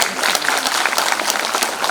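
Loud, dense group clapping fills a Yoga Day session as clapping therapy, with many hands striking continuously at a brisk, steady pace, close and energetic, with some voices faintly under it.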